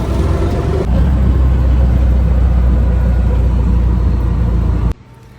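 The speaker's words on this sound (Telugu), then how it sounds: "ఆటోలో బయలుదేరాం." Steady, loud engine drone of an auto rickshaw on a ride through Mysore, continuous rumble throughout before cutting off abruptly near the end.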